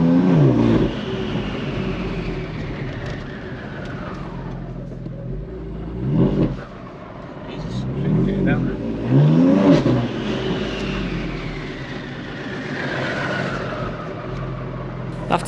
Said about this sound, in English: We've noticed it's doing a bit of a whirring sound.